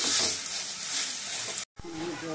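Boiled mango pieces fry in a pan for a sour summer mango chutney, a close, bright sizzle with stirring scrapes that stops abruptly, then resumes more quietly while a voice speaks.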